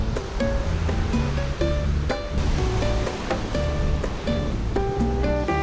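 Continuous rushing surf of ocean waves near Anahola Beach, Kauai, loud and close, with a steady roar and occasional brighter splashes; no voices.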